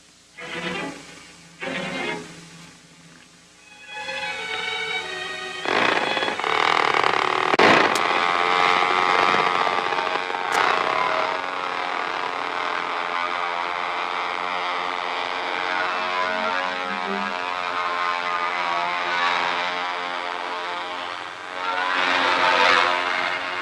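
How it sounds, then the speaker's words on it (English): An airplane engine revs up after a few clunks at launch, then a loud, droning, whining roar holds steady and close for a long stretch. "You may launch the plane."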